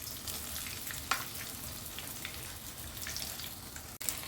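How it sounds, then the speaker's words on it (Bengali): Small eggplants frying slowly in hot oil for a Bengali vegetarian dish, a steady soft sizzle with a few sharper pops and crackles, close and continuous with no talking. "তো এইভাবে সব কটা বেগুন আস্তে আস্তে ভেজে নিতে হবে যতক্ষণ না নরম হয়ে আসবে।"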